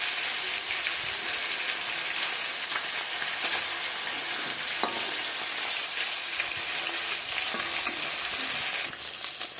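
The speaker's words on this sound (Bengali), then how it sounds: "এবার এই পিসকে লাল লাল করে ভেজে নেব" Chunks of big American rui fish sizzle in hot oil, a steady, dense hiss held close and loud with a few small crackles and a brief clatter near the end.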